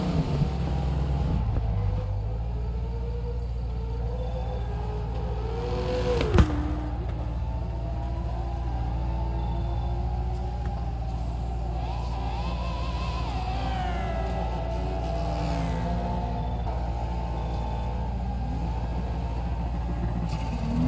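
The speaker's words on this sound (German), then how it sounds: "Da schallt's halt wie bekloppt bei solchen Autos." Sports car engines in the racing game Test Drive Unlimited, driving in the rain, hold a steady droning roar with rising and falling revs throughout, continuous and fairly loud with no talk.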